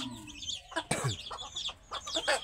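Native domestic chickens cluck and chatter in quick, close, overlapping calls that rise and fall across a few seconds, with no talk.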